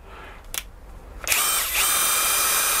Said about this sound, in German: lässt sich natürlich auch als Akkuschrauber, wenn ich jetzt kurz drücke